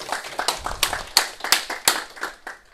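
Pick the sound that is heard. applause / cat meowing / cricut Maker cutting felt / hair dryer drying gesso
applause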